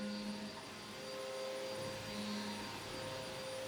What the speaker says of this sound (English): I'm very sorry if you hear the vacuum